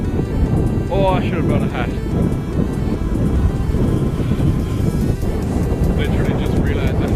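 Strong gusts from Hurricane Ophelia in Ireland buffet the microphone, a loud continuous rumbling roar throughout, with a person talking over it.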